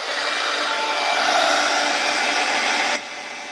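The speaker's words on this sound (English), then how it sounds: "I do need them to dry. I need them to heat set, otherwise the rub-ons won't stick." Heat tool running steadily at close range while drying rub-on transfers for a craft background, a loud continuous blowing whoosh that drops off sharply near the end.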